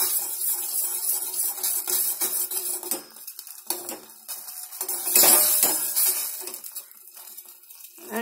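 Coconut oil and strawberry stirred in a pan on the stove: continuous metallic clinking and scraping of a spoon against the pan, rhythmic and close, with occasional sharper clinks.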